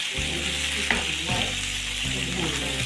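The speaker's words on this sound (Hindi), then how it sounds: "तो हम अच्छा सा इसके साथ फ्राई करेंगे" Vegetables sizzling and frying in a hot pan for Chinese rice, a steady loud hiss with occasional stirring scrapes, no talking.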